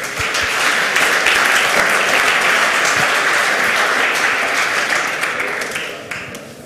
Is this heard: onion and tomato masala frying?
no